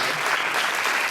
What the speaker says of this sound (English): please give a round of applause to my amazing timekeeper, Jennifer.